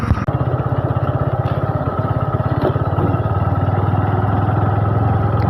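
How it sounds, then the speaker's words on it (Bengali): A motorcycle rides along a rural road toward a Kali temple, its engine putting out a steady, rapid low thrum with clattering pulses, close and continuous. "নিজেই মোটরসাইকেল চালিয়ে যাচ্ছি"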